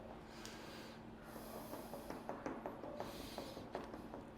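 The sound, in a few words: dog sniffing a morel mushroom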